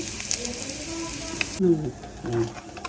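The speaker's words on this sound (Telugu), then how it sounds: "ఇలా నూనెలో దోరగా వేయించుకోవాలండి" Raw prawns frying in oil for an Andhra-style sorrel leaves prawn curry, a soft steady sizzle that stops abruptly partway, followed by quiet stirring with faint tonal sounds.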